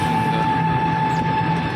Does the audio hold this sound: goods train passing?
yes